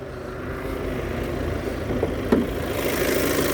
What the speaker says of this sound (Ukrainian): Зараз вам ще покажу під капотом двигунчик.